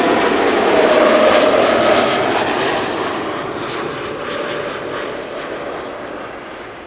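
A large airliner lands at Amsterdam Schiphol airport: a loud, continuous jet engine roar that swells early and then slowly fades as the aircraft rolls out.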